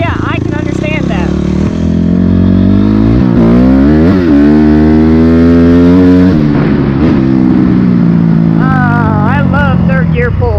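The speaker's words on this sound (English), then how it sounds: "I love third gear pulls." A dirt bike revs loudly and close through a third gear pull. The engine whine climbs in pitch in repeated sweeps, with what sounds like a voice mixed in.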